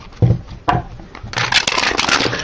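A tarot card deck is shuffled by hand: a couple of soft thumps followed by a rapid, crisp riffling flutter of cards, close and fairly loud.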